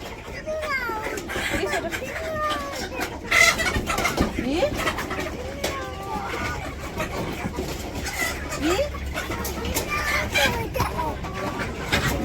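Village chickens cluck and squawk in short, repeated calls at close range, mixed with other bird sounds, while people talk over them almost throughout.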